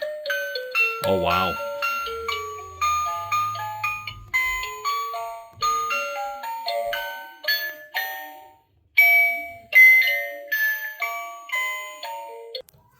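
A musical Silent Night Deadly Night snow globe chimes a tune in bright, plinking music-box notes, close and clear, with a brief low rumble near the start and a short pause midway; a voice briefly reacts over it.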